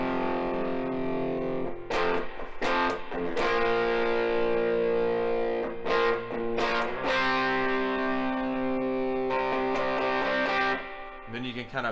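Palm-muted electric guitar through heavy distortion playing a chugging riff, a dense, loud, sustained crunch with short chopped breaks and a sudden stop near the end.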